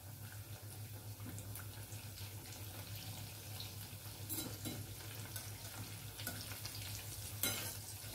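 Vadas sizzle steadily in hot oil after being turned over, a faint, continuous crackle over a low background hum, with a few louder spattering bursts and scraping stirs, no talking.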